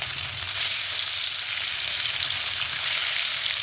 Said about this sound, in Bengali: এখন মাছটাকে আমি ভাজবো।